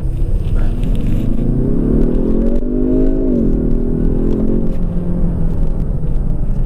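Kia Stinger accelerating hard from a standstill, heard from inside the cabin: a loud, steady engine roar rising in pitch, dipping briefly at a gear change, then climbing again over constant road rumble.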